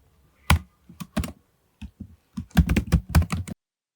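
Code being typed on a computer keyboard while writing Shopify Liquid template tags, heard as irregular bursts of close, crisp key clicks with short pauses, ending in a dense flurry of rapid keystrokes.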